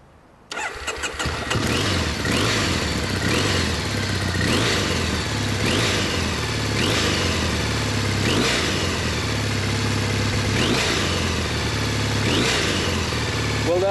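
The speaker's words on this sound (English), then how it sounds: "Let's have a listen at that engine first," A Triumph Bonneville 790cc air/oil-cooled parallel twin with double overhead cams cranks and fires up, then settles into a steady idle broken by repeated sharp throttle blips, loud and close throughout.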